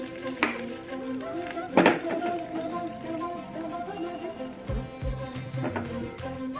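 Gram flour batter goes into a hot pan with ridge gourd for a curry. A steady close sizzle is broken by a few stirring scrapes and bumps.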